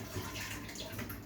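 Hot water pours into a pot of fava beans, a steady splashing rush of liquid with a low gurgle underneath, close and continuous, without talk.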